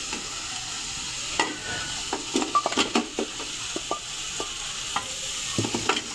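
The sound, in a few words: beef being sautéed in gravy for yakhni pulao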